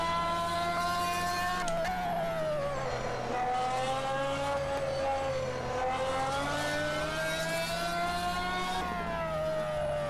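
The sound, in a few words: Ferrari SF15-T engine from outside, Assetto Corsa video game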